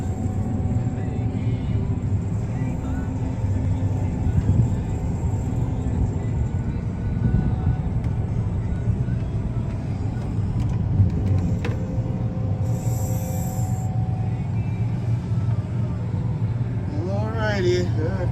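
A combine harvester with a 40-foot draper head rumbles steadily as it pulls into a farmyard, a low continuous engine drone with someone talking over it and a brief high squeal near the end.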